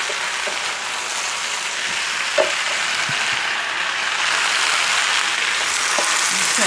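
Brussels sprouts and spinach casserole sizzling in a pan, a steady close frying hiss with occasional soft clicks and stirring taps, no talking.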